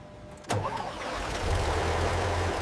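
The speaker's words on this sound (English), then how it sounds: "Engaging the starter now. Sounds good. We have ignition." WWII military truck engine starting: a sharp click from the starter, a brief crank, then the engine catching and settling into a low, steady idle close by, with no talk.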